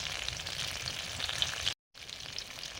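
Potatoes frying in mustard oil with dried red chilli, a steady close hiss and crackle of sizzling oil that cuts out briefly to silence, then resumes.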